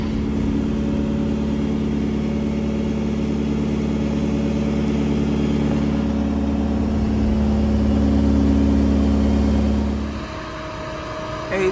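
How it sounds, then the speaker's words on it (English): A grape harvester's engine runs loud and close with a steady low drone, swelling slightly before dropping abruptly near the end. "A third harvester is pulling in right now."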